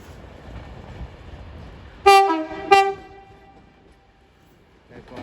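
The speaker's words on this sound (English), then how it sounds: "Soon to arrive in now will be the 1532 Fancy West Coast service from Manchester Piccadilly to London Euston." A West Coast Class 390 unit, 390-107, on the 15:32 Manchester Piccadilly to London Euston service, arriving at Crewe station, sounds two short, loud horn blasts close together over quiet platform ambience.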